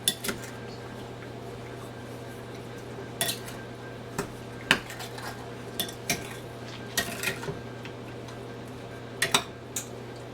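A metal spoon stirs white granulated sugar in a bowl for peach cobbler, giving sparse, irregular clinks and taps against the dish over a steady quiet background.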